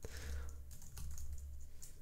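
Quiet, rapid computer keyboard typing during Swift app coding, a fast run of light keystrokes under a low steady hum, with no speech.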